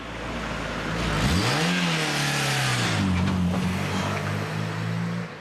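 A car engine revs hard and accelerates on a road, pitch sweeping up through the gears and climbing again as the vehicle races past, loud and close throughout.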